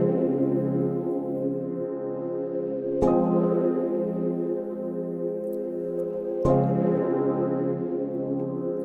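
Layered synth chords in an ambient beat pattern ring out in long sustained swells, with a fresh chord striking in roughly every three seconds over a soft low bed.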